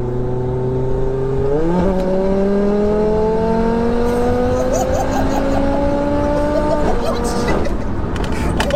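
A car engine revs hard and accelerates through a long power band, loud and close, its pitch climbing steadily with a brief shift and further rises, while people exclaim and talk over it.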